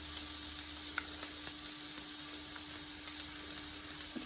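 Small pork and beef slider patties sizzle in a pan with a steady, fairly quiet crackle and a faint tick or two, no talking.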